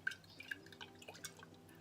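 Warm water is sprinkled by hand onto yeast dough for Upper Egyptian faysh bread, giving a handful of faint, scattered little drips and splats close by in a quiet room.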